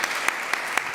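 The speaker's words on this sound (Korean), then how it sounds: "한번 박수 한번 주시고요" Applause from a church congregation welcoming visiting pastors at a Sunday service, a dense steady clapping with a few sharper bursts, filling the space with no talk over it.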